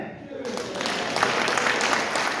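An audience at a city council meeting applauds in a dense, steady burst of clapping that fills the room, brief and fairly loud, rising in after a voice.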